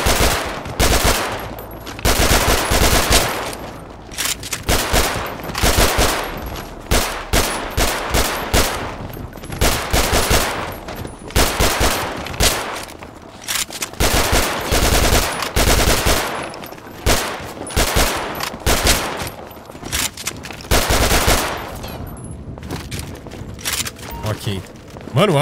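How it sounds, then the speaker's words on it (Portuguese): Rapid automatic gunfire and bursts of shots from the video game GTA V Zombies, loud and nearly continuous over about 25 seconds, with a person talking over the shooting. "Gosto de atirar mais do que uma pessoa."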